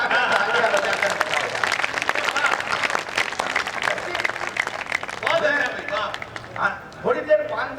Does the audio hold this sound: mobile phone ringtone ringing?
no